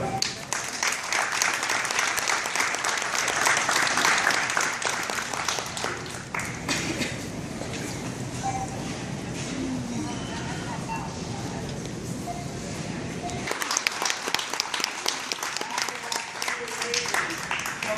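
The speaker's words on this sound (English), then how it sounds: "We're going to give a big hand to Andrew." Sustained audience applause at a store's grand reopening event, a dense steady wash of clapping from a crowd that continues for a long stretch, moderately loud with some brief voices mixed in.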